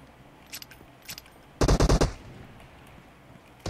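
PUBG Mobile gunfire: a few faint isolated shots, then one loud, close rapid burst of about five shots, and another shot cutting in at the end.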